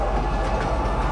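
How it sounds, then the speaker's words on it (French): Metro train in Lorville, a city in the video game Star Citizen, giving a steady loud rumble of rail travel with a low continuous drone throughout. "on va reprendre le métro dans l'autre sens"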